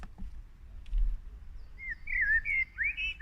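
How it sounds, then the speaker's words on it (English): Common blackbird song, heard as a series of fluting, warbling whistled phrases that begin after a quiet start and continue to the end, fairly clear against faint background. "I'm going to play a song and talk over it and describe some little features to pick out to know that you're dealing with a blackbird"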